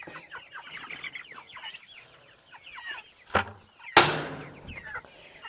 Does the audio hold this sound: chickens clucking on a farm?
yes